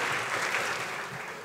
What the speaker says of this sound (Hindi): तो जोरदार तालियों स्वागत करते हैं अमित झा राही का।